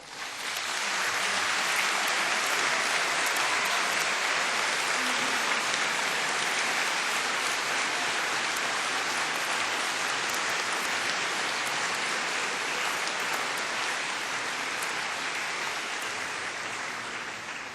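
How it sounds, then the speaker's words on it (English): A large graduation audience at Cardiff University applauds continuously, a dense, steady wash of many hands clapping at an even loudness from start to finish with no talk over it. "give them all a big round of applause and say a very public thank you"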